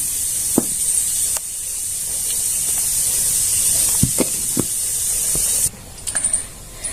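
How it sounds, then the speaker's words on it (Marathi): Pressure cooker running on a kitchen stove, a sustained high steam hiss that holds steady for several seconds and then cuts off, with a few sharp clicks and knocks nearby. "इथं कुकर चालू आहे त्याच्यामध्ये कुकरचा पण आवाज त्याच्यामध्ये येतं"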